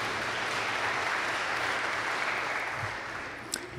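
An audience at a public service and common good talk breaks into steady, dense applause that holds evenly for several seconds, then thins slightly toward the end.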